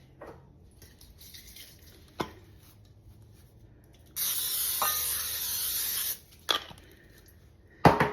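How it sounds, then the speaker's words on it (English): A steady burst of cooking spray hisses for about two seconds, close by, into a casserole pan, between scattered clicks and taps in an otherwise quiet room. "I'm going to spray it with some cooking spray."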